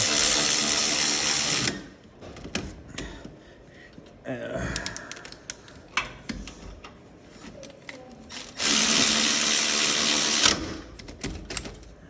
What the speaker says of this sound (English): now I'm just tightening up the caliper bolts again